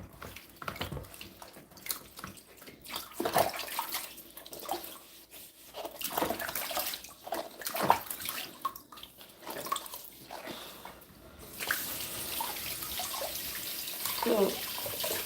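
Tap water runs and splashes into a basin while beetroot and other vegetables are rinsed and handled, the flow surging and easing irregularly with clatters of produce, and a voice talking over it at times.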